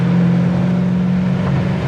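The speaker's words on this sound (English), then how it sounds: "You can hear the secondaries open up on that 4-barrel" A 1972 Chevrolet Chevelle V8 with a 4-barrel carburetor pulls under steady acceleration, a loud, continuous low engine drone with a firm fundamental that holds level and slightly strengthens through the short stretch.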